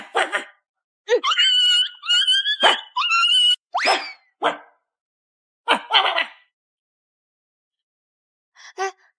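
A person imitates a dog with a run of loud, yelping bark sounds in several bursts separated by short pauses, followed by a brief, fainter final yip.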